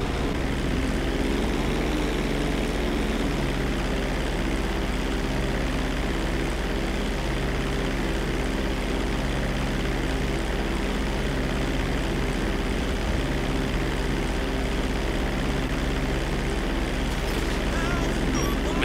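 Propeller airplane engine in flight in GTA 5, a steady loud drone with a low hum that runs unbroken throughout, a voice talking faintly over it.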